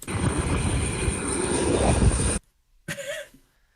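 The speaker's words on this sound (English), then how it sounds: "That is the generator of the aircraft." An aircraft's internal generator runs with a loud, steady whine and broad roar that cuts off abruptly, followed by a brief burst of a voice-like sound.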